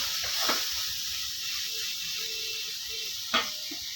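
Vegetables added to sautéed tomatoes in a hot pan give a continuous soft hiss and sizzle, broken by two brief louder spatters, with no talking.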